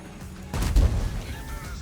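Artillery fire in the video game World of Tanks: a single heavy, muffled boom that swells midway through the brief moment and then decays into a low rumble.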